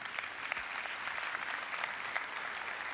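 Steady audience applause follows a talk on mindfulness and happiness, with dense clapping at moderate distance and no speech over it.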